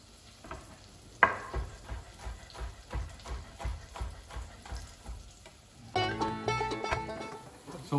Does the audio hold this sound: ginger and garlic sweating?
yes